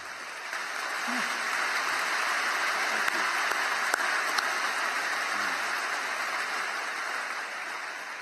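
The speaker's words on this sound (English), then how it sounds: "give a round of applause" Large audience at a spring university commencement ceremony applauding, a broad, even wash of distant clapping that holds steady throughout with no voices.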